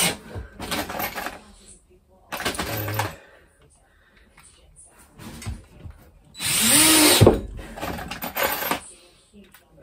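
Cordless drill driving a couple of screws into a narrowboat deck, in several short bursts of whirring with pauses between, close and fairly loud, followed by one longer, louder run near the end.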